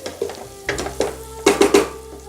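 A spoon scrapes and knocks against a pot while stirring Colombo curry seasoned with massalé powder and asafoetida, in a quick irregular series of close, loud clinks and scrapes over a low hum.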